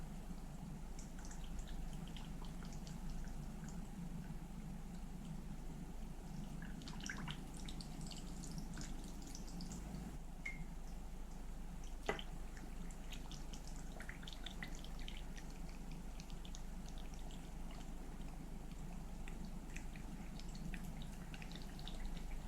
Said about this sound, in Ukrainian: І тепер в кожну баночку наливаю потрішки ухи.